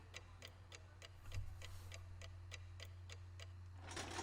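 A clock in the video game Umineko: When They Cry ticks in a steady, even rhythm, about three ticks per second, quiet and alone over a low hum, with a soft rushing swell at the end.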